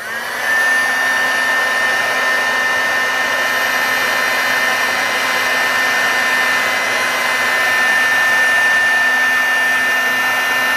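A heat embossing tool blows hot air steadily for a patina technique, a loud, continuous whirring hiss with a high motor whine that runs unbroken throughout, close by.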